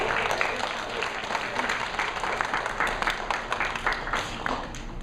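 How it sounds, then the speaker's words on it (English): Boys and girls at a Native American storytelling session give a round of applause, dense continuous clapping from a group, close and sustained throughout without a break. "let's go ahead and give a round of applause for you."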